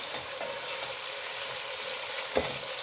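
Onion and chilli fry in a pan for chicken biryani, with a constant close sizzle and one brief stirring knock near the end.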